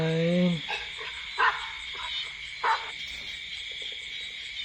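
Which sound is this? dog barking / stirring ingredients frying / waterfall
dog barking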